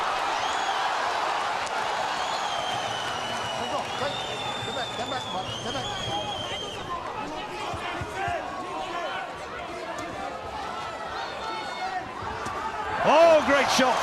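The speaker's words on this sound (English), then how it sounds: "Oh, great shot from Stieglitz this time, and the crowd respond to that." A boxing crowd at the Arthur Abraham vs Robert Stieglitz rematch swells into a steady roar after a punch by Stieglitz, with a commentator talking over it and a louder burst near the end.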